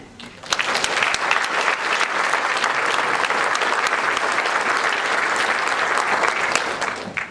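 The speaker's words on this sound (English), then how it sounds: "Let's give one more round of applause for all of our incredible award winners today." Sustained applause from a symposium audience honoring award winners at an economic symposium closing session, dense even clapping that starts abruptly and holds steady for several seconds before tapering at the end.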